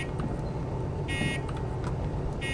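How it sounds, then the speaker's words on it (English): Locomotive bell in the Derail Valley train game sounding like an electronic alarm: two loud, harsh buzzing tones about a second apart, over a steady engine rumble. "The bell in this thing sounds like a self-destruct mechanism"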